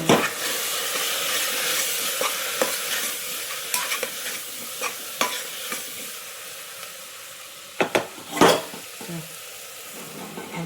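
Coriander-cumin powder and red chilli powder are stirred and sautéed in a pan for Kathiyawadi vaghareli khichdi: a continuous hissing sizzle broken by sharp spatula scrapes and knocks against the pan.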